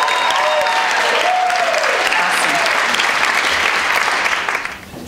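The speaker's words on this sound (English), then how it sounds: "If we could just give him a huge round of applause." Sustained audience applause fills the room, dense and steady, with some voices mixed in before it fades out at the end.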